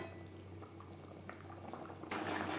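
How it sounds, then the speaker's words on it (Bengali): Katla fish simmers in a gravy of Bengali tel jhal, giving a quiet, steady bubbling that swells into a louder, denser boil near the end. "গ্রেভি বেশ ভালো করে ফুটিয়ে নেওয়ার পর দিয়ে দেবো ভেজে রাখা মাছ।"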